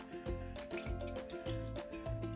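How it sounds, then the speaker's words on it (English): Water poured from a container into a pan, a rough splashing pour coming in uneven surges with a few louder gulps, close and fairly quiet. "So I'm going to pour my water in my pan first."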